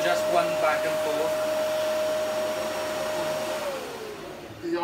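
A Hoover Dustmanager vacuum cleaner drones loudly and steadily while sucking up sawdust from carpet, its motor pitch holding constant and then sagging slightly near the end.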